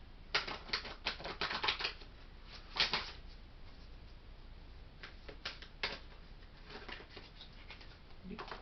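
Quiet, dry riffling and flicking of cards comes in short bursts with pauses between them, close by and soft.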